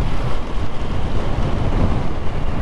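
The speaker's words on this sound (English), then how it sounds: "You can probably hear the wind" Strong wind buffets a microphone outdoors on a motorcycle trip in Norway, producing a loud, continuous low rumble and roar that fills the whole stretch with no voices.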